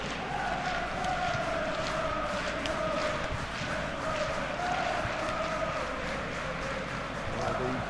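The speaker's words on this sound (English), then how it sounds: "We have a hugely expectant crowd here." An expectant stadium crowd waits before a football match, a steady, dense roar of many voices with faint chants and shouts rising and falling throughout, broad and distant-sounding.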